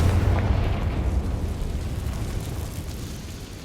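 A Confringo fire spell explodes in Hogwarts Legacy, a heavy booming blast up front that rumbles and slowly fades over a few seconds.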